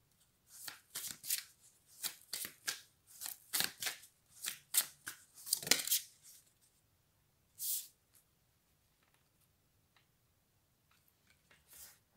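Oracle cards being shuffled by hand, a run of quick crisp riffling bursts close up, then a pause, one more burst and faint handling sounds in a quiet room.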